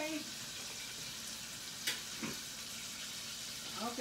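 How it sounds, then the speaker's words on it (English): Steady broadband hiss of chicken wings sizzling in hot oil, continuous throughout, with a couple of brief clinks and a faint voice near the end. "it's frying"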